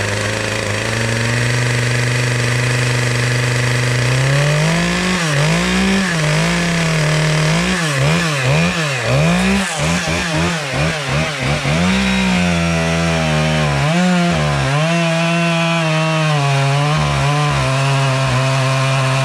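A Husqvarna 572XP chainsaw runs loud and close, idling, then revving and bogging repeatedly as it cuts through a good-sized piece of oak, its pitch dipping and rising under load.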